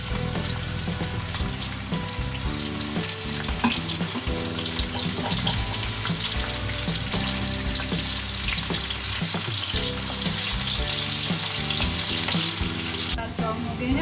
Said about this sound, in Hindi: प्याज ब्राउन कर लेंगे।